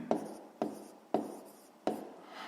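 Pen or pencil writing by hand while a fifth-grade maths exercise is worked through, four distinct, close taps and short scratches at a steady rhythm with no voice.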